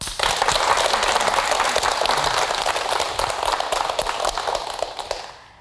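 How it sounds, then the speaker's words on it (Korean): A lecture audience gives sustained, dense applause for a talk on women's urology. The clapping stays loud and even for several seconds, then tapers away at the end. "여러분 박수로 한번 강의를 맞이해 볼까요?"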